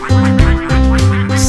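A cartoon-style duck quacks in a children's nursery song, four loud, nasal, evenly spaced quacks in quick succession, close and clear.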